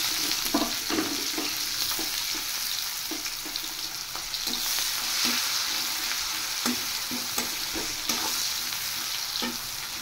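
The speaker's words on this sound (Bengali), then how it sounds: "এবার বেঁচে যাওয়া তেলে আমি কুচিয়ে রাখা পেঁয়াজ দিয়ে দিচ্ছি" Chopped onions fry in leftover oil from fried eggplant, a steady close sizzle with repeated soft scraping and stirring taps scattered across the whole stretch.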